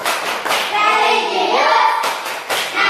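Children in a fourth-grade classroom clap through the rhythmic PPK clap chant, bursts of hand claps alternating with chanted voices, close and lively.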